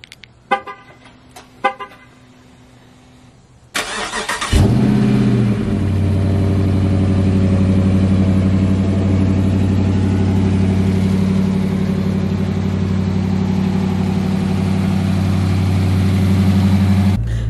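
A car engine is cranked and catches after a few quiet clicks, settling into a steady, loud, close idle with a constant low hum that runs on alone to the end.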